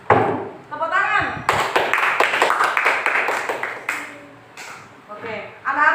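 Children in a classroom clap their hands together for several seconds after a group table-lifting experiment, a dense burst of claps over background voices, with a teacher's voice speaking before and after.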